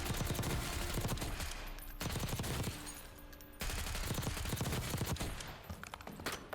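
Automatic weapon fire on the firing range in Black Ops 6, a dense rapid stream of shots in three or four bursts separated by brief gaps, loud and up close with no talking.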